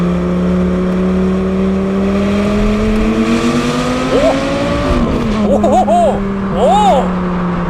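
A warmed-up 2008 Lamborghini Gallardo Spider engine revs up loudly and close, its steady drone climbing in pitch before sharp throttle blips near the end.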